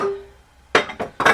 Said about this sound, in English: I'm going to clean one more batch of these wide mouth quart jars